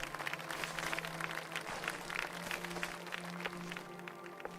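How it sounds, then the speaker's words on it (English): A crowd claps continuously at moderate volume in Final Fantasy XIV, steady and unbroken, with a faint tonal hum beneath. "See, they're clapping me."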